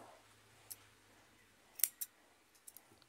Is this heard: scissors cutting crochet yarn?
yes